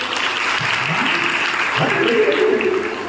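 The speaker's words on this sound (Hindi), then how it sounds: "तालियां बजाइए।" A room full of people at a Brahma Kumaris talk at a women's college claps steadily while a voice talks over the applause.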